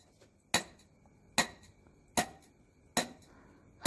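Sharp metallic strikes of a hammer drive a grounding rod into a 20–30 cm hole for a water heater ground, four evenly spaced clanks about a second apart against quiet surroundings.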